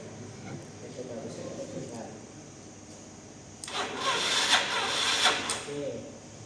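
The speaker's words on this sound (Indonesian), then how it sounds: "kita menggunakan dinamonya untuk memutar mesin ya." A Yamaha motorcycle engine is spun over by its starter dynamo in a workshop, giving a few seconds of loud whirring cranking after a quieter stretch of background noise and faint talk.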